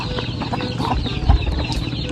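Chickens clucking together as feed is scattered for them beside a fishpond, a close, continuous chorus of overlapping clucks with a brief louder thump midway.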